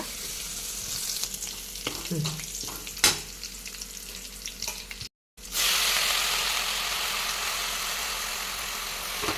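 Garlic and green chillies sizzle and fry in hot oil as a tempering, with a clatter of stirring early on, then a steady loud crackle continuing after a brief break.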